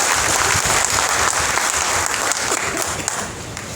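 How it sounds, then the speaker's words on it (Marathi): Sustained applause from a political rally crowd, dense and loud throughout, fading slightly toward the end. "जोरदार टाळ्या एकदा या नेतृत्वाकरता झाल्या पाहिजे"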